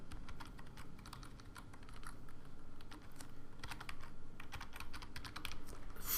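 Continuous typing on a computer keyboard while writing an HTML file, a quick, steady patter of light key clicks with no talking, fairly quiet and close.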